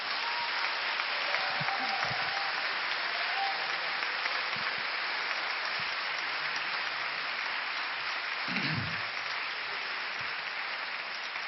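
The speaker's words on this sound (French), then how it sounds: "qu'on applaudisse nos sœurs qui ont donné les vies pour nous" Church congregation applauding the nuns, a long even wash of clapping from a large crowd that holds steady throughout, with occasional low thumps and faint voices underneath.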